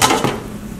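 A lid is set back onto a cooking pot of beef broth with a quick metallic clank at the start that fades into quiet kitchen background.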